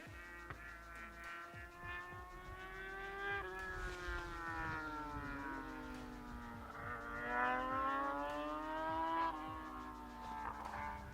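Yamaha FZ6 motorcycle, its inline-four engine derived from the Yamaha R6, revving up and down in smooth rising and falling sweeps, a clear tonal whine with harmonics, heard nearby and alone.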